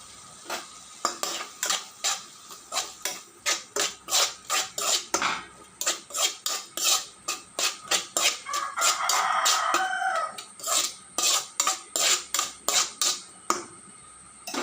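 Ground ingredients for parotta are stirred in a pan, making rapid, regular metallic taps that repeat for the whole stretch, close and crisp, with a brief softer hiss near the middle and no voices.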